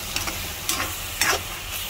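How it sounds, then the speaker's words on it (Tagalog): Bitter gourd and egg stirred in a frying pan over a low steady sizzle, with three brief scraping strokes of the utensil spaced about half a second apart. "haluin na po natin"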